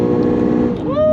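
A Lexus RC F's 5.0-litre V8 holds a loud, steady engine drone, then its pitch climbs quickly as it revs on a downshift, all close and up front.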